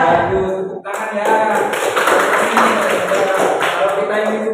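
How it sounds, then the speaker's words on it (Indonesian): A classroom of students claps together in steady, dense applause that fills the room, starting after a brief voice and running on loud and close. "Bagus, tepuk tangan ya."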